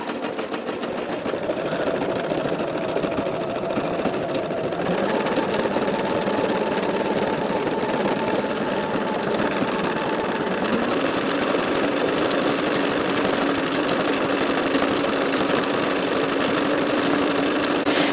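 A Bernina sewing machine runs continuously in a quilting workroom, a steady mechanical whir with a rapid stitching chatter that shifts pitch slightly partway through, close and unbroken for the full length.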